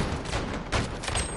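Video game gunfire in a dense, continuous crackle of shots, fairly loud and unbroken, with a slightly stronger burst partway through.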